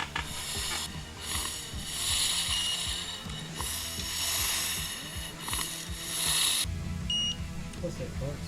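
Ratcheting clicks from a wrench snugging oil pump bolts on a 22XE engine as the crank is turned by rotating the back tire, rhythmic mechanical clatter with a short beep, and a person talking over it.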